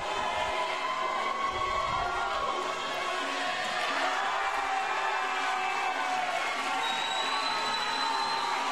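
A crowd at a collegiate speed climbing national championship final cheers and shouts steadily after a fast time, a dense, continuous roar of voices and clapping that stays loud throughout, with a few higher whistles or shrieks near the end.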